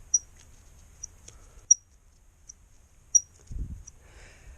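A worn swivel part on a Morris Minor gives a handful of short, high squeaks spaced irregularly as it is moved, fairly close in a quiet space, followed by a brief low thump.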